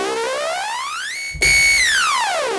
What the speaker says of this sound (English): the first one we're going to look at is a wrap saw